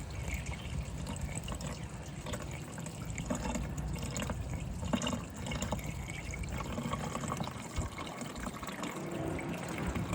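Radiator fluid drains from a car radiator in a steady close trickle and splash, continuous liquid pouring with a low background hum.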